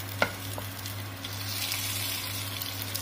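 Onions fry in mustard oil for mutton harisa, giving a steady close sizzle with a low background hum and a faint clink near the start, no talking.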